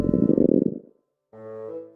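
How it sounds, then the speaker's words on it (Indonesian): A stomach rumbles in the Roblox video game: a loud, low, gurgling rumble lasting under a second, then a short silence before a steady tonal sound. "Apa itu suara perut kamu, Shirley?"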